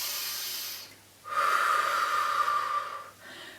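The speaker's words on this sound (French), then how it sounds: "On inspire encore une fois." A person does a breathing exercise, taking a slow audible inhale followed by a longer, forceful hissing exhale like blowing out a candle, close and clear with no talk.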